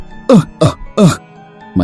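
A sick man's coughs, three harsh bursts close together, then a fourth after a short pause, loud and near with no other sound between them.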